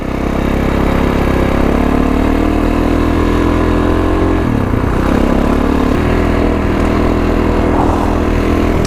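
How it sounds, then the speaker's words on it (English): A Kawasaki KLX351 dirt bike engine revs high against a slipping clutch, holding a steady loud droning note with a brief dip partway through before climbing again, close and continuous. "just a little bit of throttle and you can hear that I'm over revving it for the speed that we're going, trying to slip that clutch"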